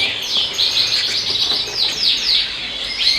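Yorkshire canary chicks about 26 days old chirp from their nest, a loud, close run of repeated high, thin cheeps with no talking.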